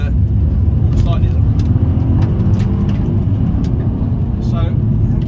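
A VW Golf R32 engine accelerates and revs hard as the driver shifts down through the gears, a loud and steady close-up drone with road noise throughout and someone talking over it.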